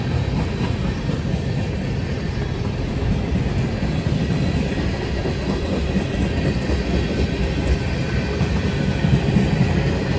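A diesel freight train rumbles past close by, a loud continuous heavy roar with rattling cars and faint clatter throughout, no talking.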